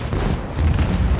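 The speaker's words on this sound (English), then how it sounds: "Maybe we can hit them with the port cannon?" Ship's port cannon firing in the space combat of Rogue Trader, a grimdark computer role-playing game: a continuous, dense rumbling boom of heavy fire with low-end bursts swelling through the short stretch.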